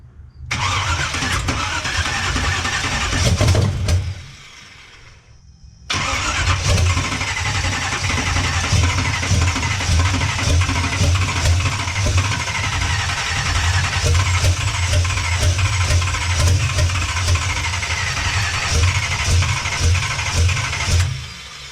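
An old car engine cranks with a rapid, loud, rhythmic churning, stops for about two seconds, then cranks again at length, close-up and with no voices.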